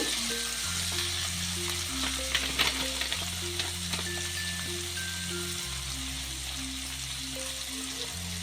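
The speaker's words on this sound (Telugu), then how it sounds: "కరివేపాకు రెమ్మలు వేసుకుని బాగా ఫ్రై చేసుకోండి" Curry leaf sprigs and chicken sizzle steadily in a hot pan for a chicken fry, a dense continuous frying crackle with occasional stirring scrapes and a low background hum, no talking.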